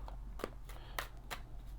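A deck of tarot cards (Nouveau Tarot de Marseille) being shuffled by hand, a few soft, quick riffling flicks at close range over a low background hum.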